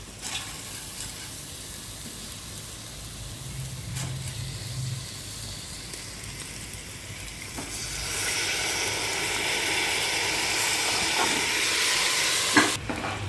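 Rice and lentils are stirred in a pot for khichuri, a soft scraping and stirring over a continuous sizzle and hiss that grows louder and brighter partway through, with a few light clinks near the end.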